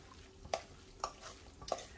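Ricotta cheese being mixed into cooled turkey mince in a bowl, three soft, evenly spaced scraping strokes, faint and close with a quiet background.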